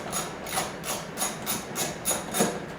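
Torx screws being backed out from under an Audi A4 B6/B7 fender with a power driver, heard as a series of about eight evenly spaced short whirring bursts, close and moderately loud.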